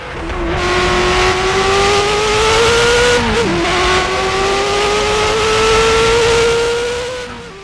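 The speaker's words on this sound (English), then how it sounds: "All you can hear is that engine just screaming behind you." A Ferrari F40 Competizione race car engine screams at high revs in a racing video game mod, pitch climbing steadily with a brief dip mid-way, loud and close throughout.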